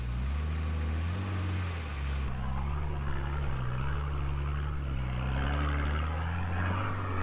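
An off-road trials vehicle's engine on a rutted, rocky trials track holds a steady, droning note that rises and falls with the throttle, running continuously and close by with no talking.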